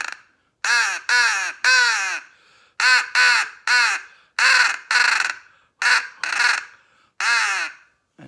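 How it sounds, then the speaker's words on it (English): A crow call blown for turkey hunting gives loud, close, harsh caws in quick groups of two and three, separated by short silences, with no voices. "Now the crow call is significantly easier."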